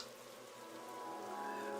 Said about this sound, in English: The rain is currently coming down harder, and the wind feels like it's picking up now.